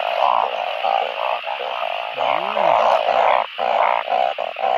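A banded bullfrog (Kaloula) calls loudly and close, repeating deep droning croaks in a steady rhythm against a background of insect-like buzzing during the rainy season.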